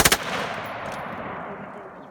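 An MG 34 machine gun mounted on a 1942 Zündapp fires a short, loud burst of three rapid shots close by, followed by a long echoing decay.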